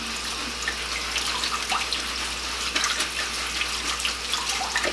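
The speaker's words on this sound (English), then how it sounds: "again, just give it a rinse." Tap water runs continuously over winterborn kale being rinsed in a sink, a steady close splashing hiss with small irregular spatters as the leaves are moved under the stream.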